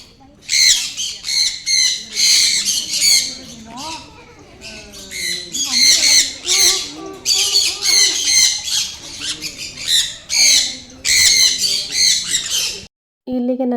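Loud, harsh bird squawks and screeches repeat in dense bursts throughout, close by in the bird enclosure at Planet Earth Aquarium, Mysore, with faint voices occasionally underneath.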